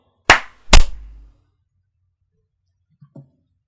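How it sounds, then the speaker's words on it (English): Two sharp hand claps land close together, loud and close, followed by silence and a faint brief thump near the end. "clap in 3, 2, 1"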